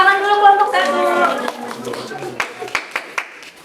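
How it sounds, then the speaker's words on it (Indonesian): A classroom group claps for presenting group 1, sharp scattered hand claps near and fairly loud, following a teacher's spoken remarks. "Tepuk tangan dulu kelompok"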